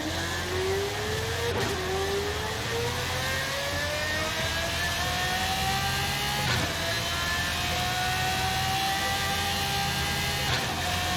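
A high-revving sports car engine in Forza Horizon 5, its pitch climbing steadily and then holding near one level through a long pull. It plays loud and continuous on its own, with a few brief gear-shift dips along the way.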